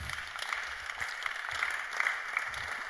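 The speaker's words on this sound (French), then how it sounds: "Acclame encore bien pour la gloire de Jésus" A church congregation applauds in praise, a steady diffuse wash of many hands clapping at a modest distance, with little speech over it.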